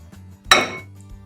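Coconut milk pudding mixture being moved into another vessel in a home kitchen, with one loud metallic clank of a pan or utensil against a bowl, followed by a short scraping rattle that fades under a low background hum.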